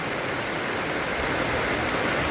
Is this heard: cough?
no